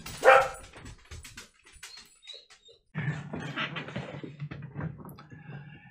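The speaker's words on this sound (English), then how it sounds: "Wait for the dogs to finish." Several dogs bark in short bursts nearby, a loud yapping flurry at the start and then sparser barks and whimpers, giving way to a denser spell of barking with background noise toward the end.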